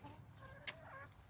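Backyard chicken flock clucking softly in the background, with one brief sharper cluck or squawk near the middle standing out over a low steady murmur.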